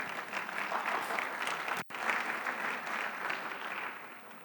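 Spontaneous audience applause at a national school informatics and entrepreneurship event, dense, sustained clapping from a large crowd, with a momentary dropout partway through.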